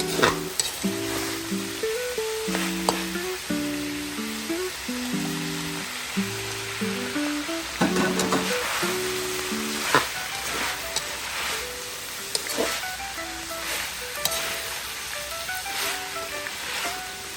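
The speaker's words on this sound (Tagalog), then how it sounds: "Ito din maganda pag ginigisa siya kasi para hindi siya agad masira." Pork liver sautéing in a pan for Filipino menudo, a lively sizzle with periodic stirring scrapes and clanks, heard close under a melodic background tune, with no speech.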